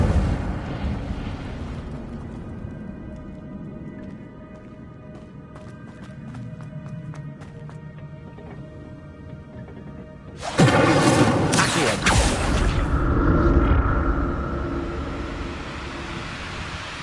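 Incendio fire spell cast in Hogwarts Legacy: a sudden loud roaring burst of flame erupts partway through, following quieter game ambience with faint ringing tones, then sustains and slowly fades.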